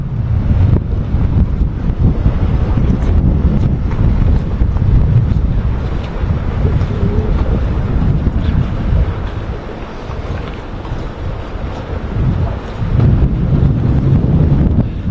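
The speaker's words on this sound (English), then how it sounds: "As soon as he gets out a little bit, he might be able to stand the boat up and take off." Cutwater planing boat powering off through a shallow channel, a loud, steady rumbling engine and rushing water mixed with heavy wind buffeting on the microphone, continuous throughout with no talk.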